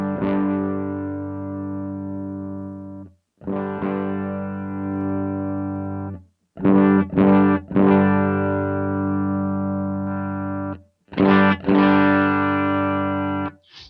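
Electric guitar run through a Line 6 POD amp model with its default cabinet, playing distorted, sustained chords in several bursts separated by short gaps, loud and heavily effected with no talking.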